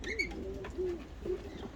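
Ottoman Hünkari pigeons coo softly nearby, giving a few low rolling calls with short pauses between them against faint background noise.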